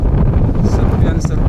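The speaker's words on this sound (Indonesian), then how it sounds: "Cek itu angin di sini" Strong wind on the slope of Mount Bulusaraung buffets the microphone with a loud, steady roar and low rumbling gusts throughout.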